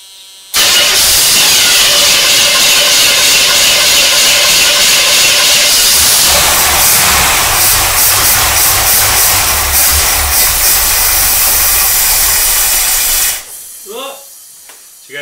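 A 1976 Chevrolet Corvette C3 V8, sitting since 2004 and fed through a newly plumbed fuel line and filter, cranks loudly and steadily for about thirteen seconds, churning without catching before cutting off, followed by a few faint bumps.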